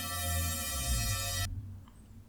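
A squeaky, metallic synth pad from a progressive psytrance drop rings as a faint sustained tone for about a second and a half, then cuts off abruptly into near silence.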